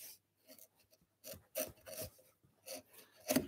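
A chisel paring wood on a halving joint, a series of short close rasping scrapes in irregular strokes with quiet pauses between them.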